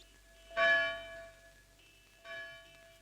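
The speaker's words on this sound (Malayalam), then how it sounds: "പള്ളിമണി കേൾക്കുന്നുണ്ട്." A church bell rings over a phone line, two separate strokes each with a long humming decay, thin and slightly distant with no talking.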